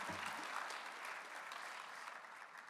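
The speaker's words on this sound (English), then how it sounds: "Give yourself a round of applause." Banquet audience at a college football awards dinner applauds, a steady, moderately faint patter of many hands clapping together, sustained evenly throughout without voices.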